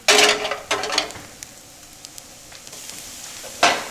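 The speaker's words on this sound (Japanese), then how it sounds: "最後ちょっとね強火にして焼き色ね、強火にして最後焼き色をちょっとつけます。" A natto galette fries in a pan over high heat, with bursts of sizzling and spattering rising and fading amid quieter gaps.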